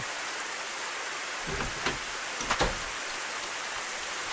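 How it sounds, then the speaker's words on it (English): Steady hiss of rain in the video game YOU and ME and HER: A love story, with a few soft knocks and thumps partway through, no voices. "Oh crap, it's raining!"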